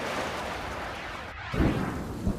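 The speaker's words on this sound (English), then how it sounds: "The storm that swept through Brisbane, concentrating itself on Wollongabba and on the cricket ground." A fierce thunderstorm over the Gabba cricket ground in Brisbane: heavy, steady roaring rain with a deep rumble of thunder swelling partway through, loud and continuous.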